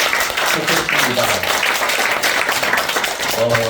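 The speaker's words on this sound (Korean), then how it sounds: "감사의 박수 한번 올려주시면 좋겠습니다" A congregation at a special church retreat applauds in thanks, a dense wash of clapping filling the room, with a voice speaking faintly beneath it.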